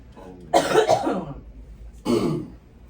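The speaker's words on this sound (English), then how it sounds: "Remove the cough for the next 20 minutes." Two rough coughs close by, the first a double cough, then a pause and another single cough.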